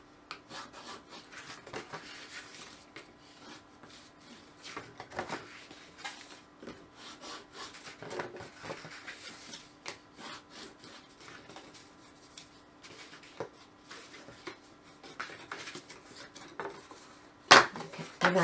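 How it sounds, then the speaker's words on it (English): Card stock for a gift box base is folded and burnished, giving soft, repeated rubbing and scraping strokes with occasional taps and one sharper knock near the end, quiet and close, with no talking. "I haven't folded and burnished that. I need to do that right now."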